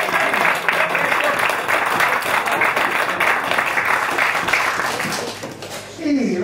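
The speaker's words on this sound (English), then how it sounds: "Nice round of applause once again" An audience at an acoustic music club gives a full round of applause, dense clapping filling the room continuously before tailing off near the end, with a few voices surfacing as it fades.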